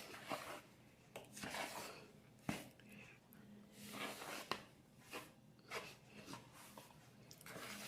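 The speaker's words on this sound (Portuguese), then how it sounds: "Vamos mexer com a colher até você não conseguir mais mexer com a colher" A spoon works flour into a stiff dough in a bowl for an economical savory snack, making repeated scraping, rasping strokes with occasional sharper knocks against the bowl, close and fairly quiet, with no talking.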